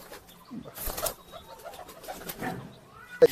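Two Madras (Malbai, Giribaz) pigeons coo softly at close range in low, murmuring bursts, with a brief sharp knock near the end.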